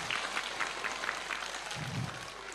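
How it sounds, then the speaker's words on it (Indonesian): Applause for the regent fills a lively religious gathering: a steady, fairly distant patter of many hands clapping, with a brief low voice or murmur near the end. "tepuk tangan untuk Pak Bupati"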